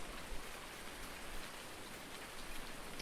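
Rain falls in a farming video game as a dense, even hiss of steady downpour, moderately quiet and continuous throughout.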